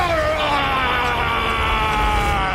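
Haxorus, a dragon Pokémon, cries in the Pokémon Journeys anime: a loud, continuous, strained roar with gliding tones that holds steady for the whole clip, with no talk.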